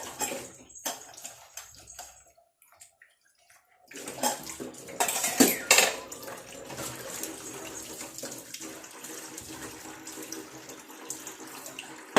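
Dishes washed under a running tap, starting with faint clinks, then water gushing steadily from about four seconds on, with pots and cutlery rattling in the stream, close and without talk.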